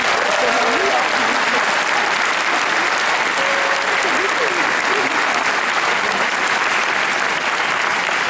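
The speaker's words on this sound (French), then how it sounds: "C'est Patrick Loiseau, on peut l'applaudir." Concert audience in a Brussels theatre applauding steadily and loudly, a dense wash of many hands clapping throughout with faint voices mixed in.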